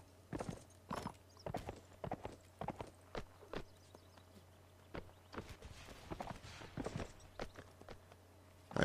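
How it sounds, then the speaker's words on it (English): Horse hooves clip-clop in a Mount and Blade line battle game set in the American Civil War era, an irregular run of sharp close steps with a low steady drone beneath and a louder thump at the end. "Corporal Aladon managed to find a horse"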